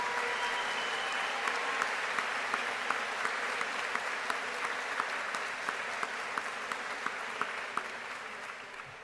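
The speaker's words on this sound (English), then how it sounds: "Let's please have a round of applause for the parents, guardians, family, and friends that have supported our students throughout their educational journey" At a high school graduation ceremony in Germantown, a large audience gives the parents and families sustained applause. The clapping stays even and continuous throughout, sounding slightly distant across a big hall, with no voices on top.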